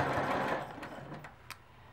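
A sewing machine stitches a whole-cloth quilt in a quick close mechanical whir that tapers off toward a few lighter clicks, with no speech.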